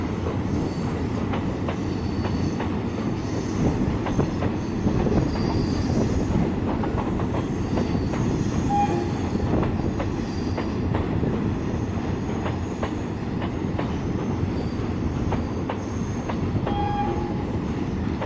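Indian Railways train rolling past at Vijayawada Junction, a steady loud roar of wheels and wagons with occasional squeals and clacks throughout, no talk.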